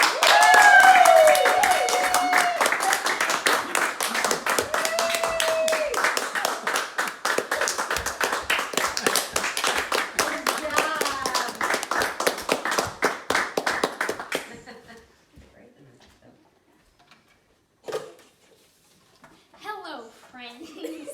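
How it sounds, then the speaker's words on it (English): A round of applause from an audience at a 75th birthday Thanksgiving gathering, loud rapid clapping for roughly fourteen seconds over talking voices, then fading to near silence with a few faint sounds. "Please give them a round of applause."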